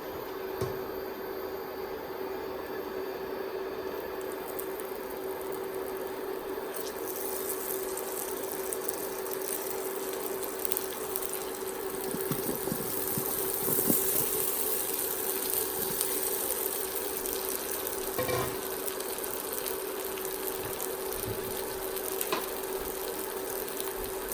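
Eggplant pieces fry in hot oil in a wide pan, a steady close sizzle that holds throughout with occasional light clatter and crackle.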